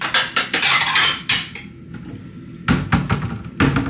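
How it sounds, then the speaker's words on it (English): Dishes, pots and cutlery clatter and clink in a kitchen sink during washing, loud irregular bursts of metal and ceramic knocks with short pauses between them. "then I'm gonna start washing my dishes"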